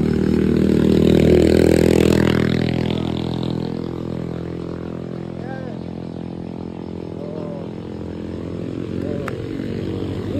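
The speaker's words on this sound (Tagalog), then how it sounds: "May motor, dali, may motor." Motorcycle engine droning loudly nearby on a street, building and then easing off as it passes while people walk along the roadside.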